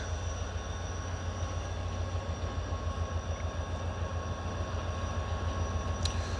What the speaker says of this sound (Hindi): HGM 38-16 से लीड पे है जी मिलत एक्सप्रेस के